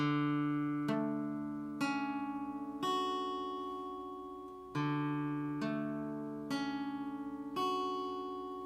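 Four strings of a guitar barre chord plucked one at a time with a pick, each note ringing out and decaying before the next, at a slow even pace.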